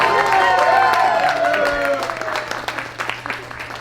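An audience at a transit company safety week event applauds, crowd clapping that begins under a voice speaking and thins into scattered claps toward the end.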